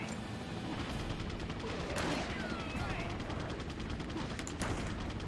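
Resident Evil 4 on PS2 with gunfire rattling out in quick, repeated bursts, loud and close over a dense wash of game noise, while a voice talks underneath.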